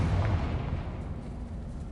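A deep, rumbling blast from a Confringo spell in Hogwarts Legacy, loud and heavy in the low end, with its boom decaying into a sustained roar across the moment, and no voices.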